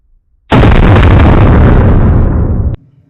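A single very loud 10mm pistol gunshot at an outdoor shooting session, a sharp blast with a long, roaring tail lasting about two seconds before cutting off abruptly, heard alone with no talking.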